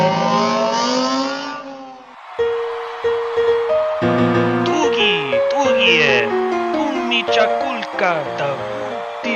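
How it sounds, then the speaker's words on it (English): Engines of podracers in a LEGO Star Wars pod race roar and whine with rising and falling pitch, several machines overlapping loudly after a brief dip, with voices and music layered over. "Let's go watch ourselves a pod race."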